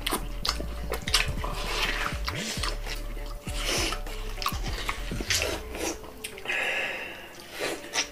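Running water splashing and trickling from a tap, with irregular sloshing and dripping, close by and fairly quiet.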